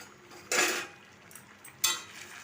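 A spoon scrapes and knocks through thick ridge gourd curry in a pan, with two distinct bursts of stirring a second or so apart, close by, with no voices.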